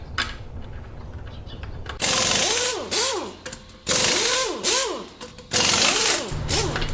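Bolts being run into the rail of a Craftsman AssureLink garage door opener with a power driver, three short whirring bursts that rise and fall in pitch, separated by brief pauses, fairly close.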